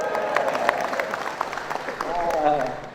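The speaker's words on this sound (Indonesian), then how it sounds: "Tepuk tangan ya." Scattered applause from an audience at a West Java government gathering of officials and village heads, sharp claps standing out over crowd murmur and overlapping voices.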